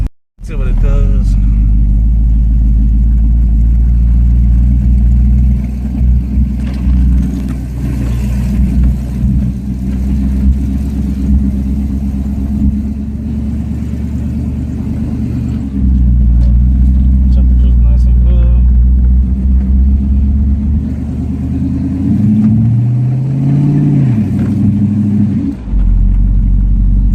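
Small-block Chevy V8 swapped into a Nissan D21 pickup truck with a Percy's adjust-a-jet carburetor, rumbling loudly and steadily from close range as the truck drives, with pitch rising and falling, and voices talking over it.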